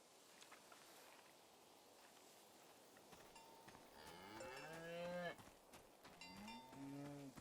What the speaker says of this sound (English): You are a cow and you are named Kresnahorkai